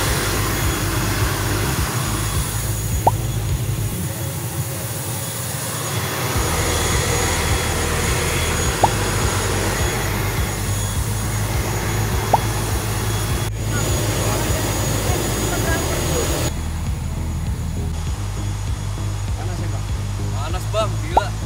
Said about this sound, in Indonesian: Jadi ini pertama kali gue naik Wings Air dan rasanya ya lumayan aneh gitu kayak pesawat mini ya